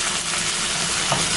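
Chopped tomatoes with onion cook in a pan, giving a steady soft sizzle and bubbling with a brief stir near the end, close and continuous.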